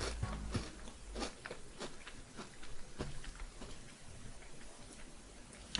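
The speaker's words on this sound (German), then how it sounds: "Wahrscheinlich hört ihr das jetzt auch noch knirschen von diesen Chocolate Chips" Chocolate chips crunching and crackling while being chewed close to the mic, irregular crisp bites and ticks over a steady background hiss, no talk.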